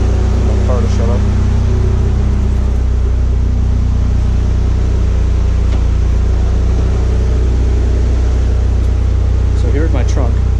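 A loud, steady mechanical drone of a car air suspension compressor in a Mitsubishi Evo X trunk running continuously, with brief faint voice-like sounds near the start and end.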